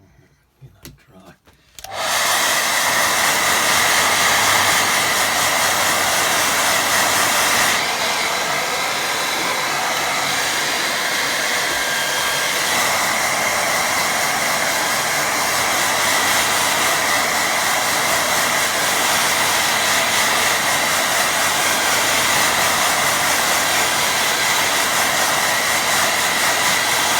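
A hair dryer blowing on a watercolour mountain reflection painting, switched on after a brief quiet start and then running loud and steady at close range without pause.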